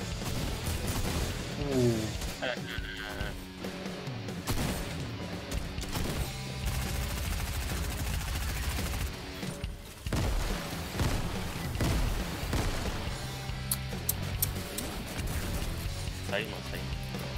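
Dense, chaotic gunfire and explosions in the video game Fortnite, repeated shots and booms throughout, mixed under excited voices talking.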